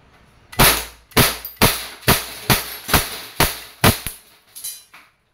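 An Umarex Glock 17 Gen 3 airgun pistol fires 4.5mm steel BBs, nine sharp loud cracks at a steady, roughly half-second rhythm, each with a short decay and no talking over them.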